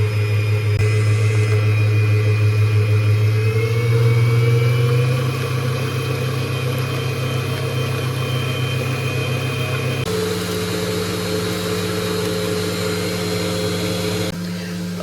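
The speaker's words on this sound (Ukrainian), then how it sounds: "Поки наше бізе збивається" An electric mixer whips egg whites for meringue, a steady loud motor whir with a constant hum that shifts pitch slightly as the speed changes, running continuously throughout.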